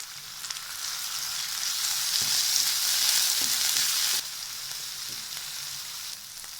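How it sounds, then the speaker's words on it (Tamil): A medium tomato hits a hot pan with green chili and ginger-garlic paste for a spicy egg pepper masala, giving a loud, steady sizzle throughout with a slight drop partway through and no voices. "ஒரு மீடியம் சைஸ் தக்காளி ஆட் பண்ணுறேன்."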